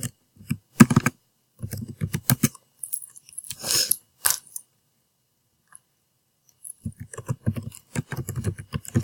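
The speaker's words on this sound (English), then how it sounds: "So, for example, I'll type in my name." Quick bursts of keystrokes on a computer keyboard, typing a name into a document header, come in close, crisp clusters separated by short pauses, with a sharper clack midway and a dense run of typing at the end.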